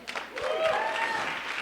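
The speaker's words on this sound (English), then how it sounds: "let's clap it up, y'all." Brief burst of audience applause at a Pennsylvania delegation breakfast meeting, clapping under a voice and a short feedback-like tone, lasting barely over a second.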